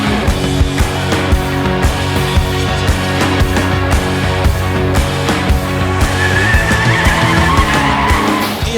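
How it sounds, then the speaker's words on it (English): A Mitsubishi Evo 1 racing up a mountain hill climb, its engine loud and sustained as it revs hard through gears, with tire noise and a brief squeal near the end. "Attention to this Mitsubishi Evo 1 that is doing the run up the mountain right now"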